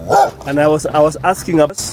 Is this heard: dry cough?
no